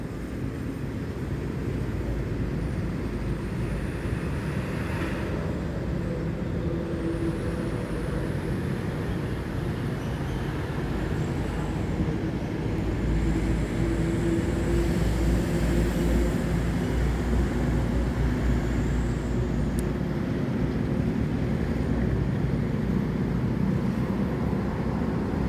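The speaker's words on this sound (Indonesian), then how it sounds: "Ini ada Prima Sleeper Jet Bus 3." Prima Sleeper bus with a Jetbus 3 body passing by: a long, steady low engine and road rumble that swells a little mid-way, heard from a moderate distance with no talk.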